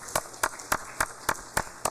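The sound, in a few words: round of applause in a legislative session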